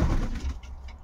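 Racing pigeons give a brief, low, murmuring coo up close, a soft throaty burble that fades within a second.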